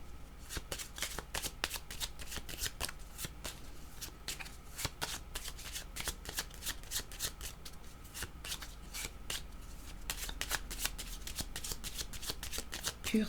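A deck of cards being shuffled during a card reading, producing a continuous run of quick, crisp riffling and slapping close by, steady for over ten seconds.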